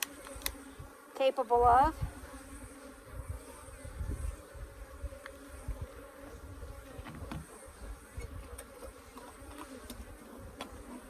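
Agitated Africanized hybrid honey bees swarm around an opened hive during an inspection in Southern Arizona, a continuous buzzing drone with individual bees zipping close past, broken by a brief burst of clatter and a few spoken words.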